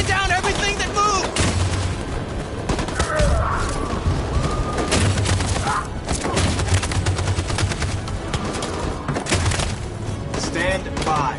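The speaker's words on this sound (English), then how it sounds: "That machine gun is taking down everything that moves!" Machine gun fire from a battlefield scene in the video game Detroit: Become Human rattles continuously for several seconds, loud and dense, mixed with heavy booms and shouting voices under the chaotic gunfire.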